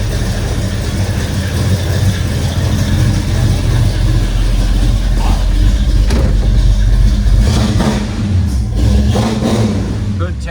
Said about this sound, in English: Just a real nice, clean 69 Pontiac Le Mans. Take her out for a little spin quick.